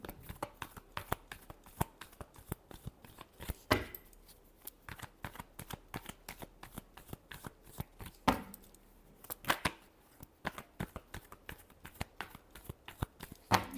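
Tarot cards are shuffled by hand in a quiet room, a fast run of sharp riffling snaps and soft slaps repeating in uneven bursts, close and alone without talk.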